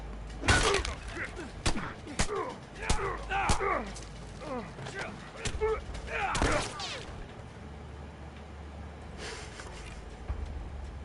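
Gunfire rings out in The Last of Us, several sharp separate shots and thuds scattered over about ten seconds, with a voice cutting in between the shots.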